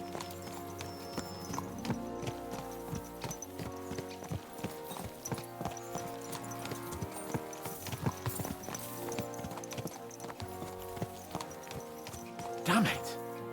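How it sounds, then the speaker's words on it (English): Horses' hooves clip-clop steadily while riding in the medieval video game Kingdom Come: Deliverance 2, a continuous trotting rhythm over a busy layer of game music and ambience. "Let's really spur these horses on, eh?"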